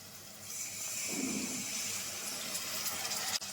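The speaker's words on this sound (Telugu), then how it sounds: "కొద్దిగా నీళ్ళు పోసి ఆ నీళ్ళు ఇందులో పోస్తున్నాను" Water runs steadily with a soft, continuous splashing hiss, close by, as if poured from a vessel into a cooking pan of drumstick tomato gravy; no one speaks.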